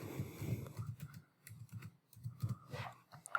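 Password typed on a computer keyboard, a run of quick, close, light key clicks in uneven bursts with short pauses, quiet and alone with no talk.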